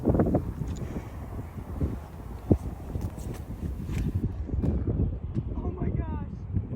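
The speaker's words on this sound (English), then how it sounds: "Very windy day, very, very muddy day." Heavy wind buffets the microphone in continuous low rumbling gusts at a muddy disc golf tournament, with faint rustling and soft knocks mixed in.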